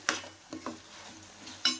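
Green chilli chicken frying in a pan, stirred with a utensil: a few sharp metallic scrapes and clinks spaced over a soft sizzle, close and unaccompanied by speech.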